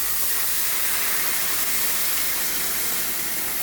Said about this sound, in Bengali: এবার পানি দিয়ে দেব, গরম করে রাখা পানি